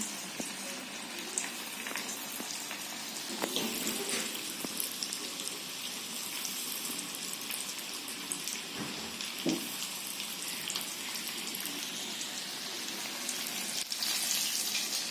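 Chicken popcorn pieces deep-frying in hot oil, a quiet continuous bubbling sizzle that holds steady throughout, with occasional faint crackles and no voices.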